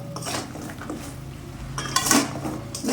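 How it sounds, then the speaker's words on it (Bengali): Stirring kheer-filled mung pithas in sugar syrup in a pan: a spoon clinks and scrapes against metal close up, in irregular taps with a louder clatter near the end. "মুগশাওলি পিঠেগুলি দিয়ে নেড়ে চেড়ে"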